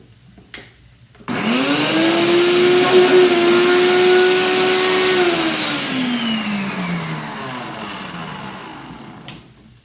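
A blender blends beans for veggie burgers in a loud, steady whir that starts abruptly, holds with a slightly shifting pitch, then winds down as the motor slows, with no talk over it.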